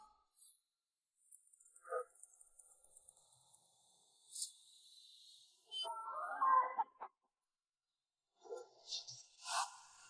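At a wedding ceremony, a chicken lets out scattered, intermittent clucks in short bursts separated by quiet gaps, with faint insect chirping and a voice briefly heard.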